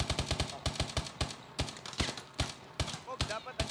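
Rapid automatic gunfire from Call of Duty: Advanced Warfare, played in a competitive 4v4 Search and Destroy match, rattles in a steady stream of close, punchy bursts, with brief player chatter over it.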